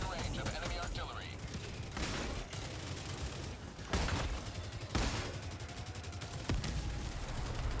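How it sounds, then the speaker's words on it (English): Enemy artillery fire in a mech video game: continuous rumbling barrage with repeated heavy booming impacts, sharp blasts standing out around several moments over steady low battle noise. "Warning, you are in range of enemy artillery."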